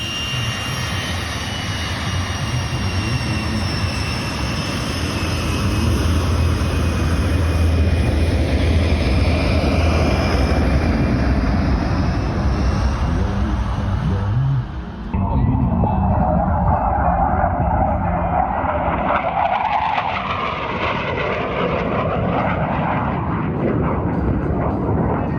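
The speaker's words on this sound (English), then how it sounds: "Really awesome to see our aircraft doing air shows again" Aircraft performing at an air show at Naval Air Station Meridian, a loud continuous jet roar that swells and sweeps past, with a sudden shift midway as the engine noise changes pitch, under faint background talk.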